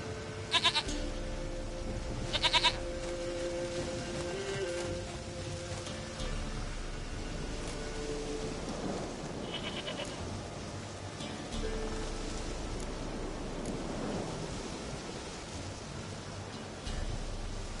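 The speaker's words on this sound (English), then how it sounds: "Goat of mine, dearest, sweetest goat." A goat bleats in the game The Witcher 3. Two short, sharp calls come early, followed by a quieter backdrop of game ambience.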